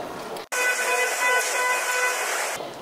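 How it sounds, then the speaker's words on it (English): Seoul subway platform warning chime telling passengers to keep clear of the train doors, a steady multi-tone electronic signal sounding loud and continuous for about two seconds between brief silences. "basically you have to stay away from the doors"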